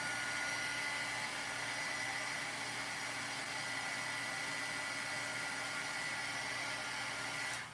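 A craft heat tool blows hot air to reheat a section of craft medium, a steady loud whooshing hum that runs unbroken for nearly eight seconds and stops at the end.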